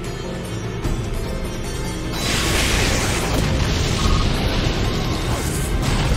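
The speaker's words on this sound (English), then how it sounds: "Annihilated by explosion!" Explosion move in Pokémon Battle Revolution: a sudden loud booming blast that erupts after a quieter lead-in and stays as a sustained crashing roar.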